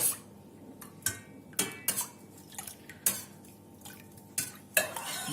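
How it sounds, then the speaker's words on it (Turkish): A spoon stirs a yogurt and milk mixture for kolot cheese in a metal pot, making sharp, irregular clinks and scrapes every second or so against a quiet background. "Ve güzelce karıştırıyoruz."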